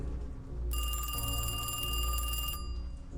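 In the horror game Kiosk Horror, a telephone rings with a bright, buzzing electronic bell tone lasting about two seconds over a low background hum.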